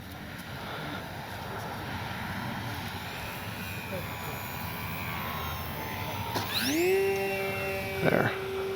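An E-flite Sportix 1.1m RC sport plane flies on a warm, sunny day, its motor droning steadily at a distance, then swelling louder and rising sharply in pitch as it passes close near the end.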